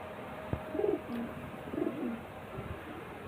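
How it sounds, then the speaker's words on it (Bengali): Madrasi pigeons coo in two short, soft bursts about a second apart, close and fairly quiet against faint background hiss. "এক পেয়ার চোখের লাইনের পায়রা দেখাচ্ছি দেখুন"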